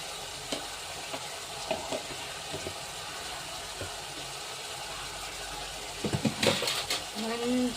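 Chicken curry masala fries in a pan and gets stirred, a faint continuous sizzle with scattered scrapes and a louder burst of clatter near the end, with no talk.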